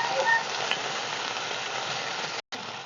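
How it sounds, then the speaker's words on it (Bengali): A paste of ground ginger, garlic, onion and cumin fries in a pan while being stirred, a close, continuous sizzle with scraping strokes and no one talking. "মশলা দেওয়া হয়ে গেছে, এবার নাড়া দিয়ে দেবো।"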